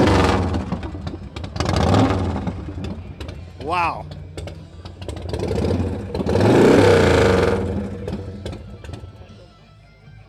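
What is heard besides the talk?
2006 Saxon Crown motorcycle engine starting and revving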